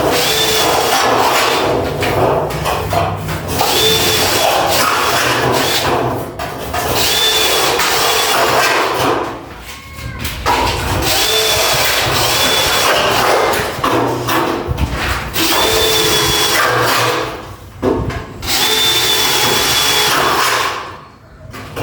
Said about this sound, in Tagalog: Gamit natin itong drill bit na 1 port.